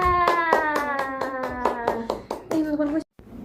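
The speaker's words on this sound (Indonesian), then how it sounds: "Tepuk tangan untuk Ifka" A class of young children claps in a rhythmic chant, about a dozen crisp unison claps in a steady beat while their voices sing along, ending abruptly.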